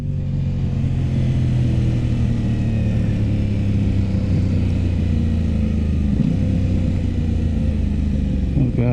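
An Aprilia RS 660 motorcycle engine drones loudly and continuously at steady revs while riding with its quick shifter, with a brief pitch change near the end and no one talking.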